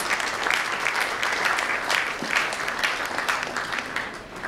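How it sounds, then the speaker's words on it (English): An audience at an EU Day celebration hosted by the EU Chambers gives a sustained round of applause, a dense, even wash of many hands clapping at moderate loudness. "let's have an encouraging round of applause for the EU Day and for EU Chambers"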